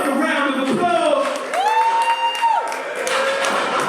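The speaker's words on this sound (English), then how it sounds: "give yourself a round of applause" A crowd at a club show applauds and cheers, with claps, whoops and a sustained shout rising over the noise for a few seconds. Someone speaks through it.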